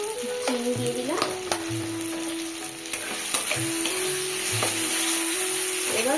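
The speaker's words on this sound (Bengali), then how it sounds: "এবার মশলাটাকে কষে নেব।" Spices fried in oil in a pan with sugar, chili and other ground spices, giving a steady loud sizzle throughout with repeated scraping stir strokes and clinks, no voices.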